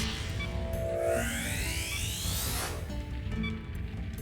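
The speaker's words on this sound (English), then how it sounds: "of a weapon being repaired." A weapon-repair sound effect in the game Dark Cloud, with rising metallic tones and a brief mechanical whir over a steady background hum, at moderate volume with no talking.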